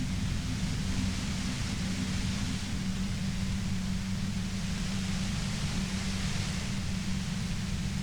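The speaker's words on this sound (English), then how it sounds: "The explosion of static you're hearing, blasted from that pale emitter that Angus mentioned." A steady, unbroken roar of dense static blasts from a pale emitter in the video game Disco Elysium, holding at an even, moderate level for several seconds without any voices.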